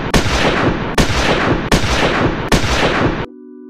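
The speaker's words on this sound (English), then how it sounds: "The gunman continue shooting." Gunshot sound effects in a reenactment of a street shooting: four loud, evenly spaced booming bursts, each ringing out with a rattling tail, followed by a short low electronic tone.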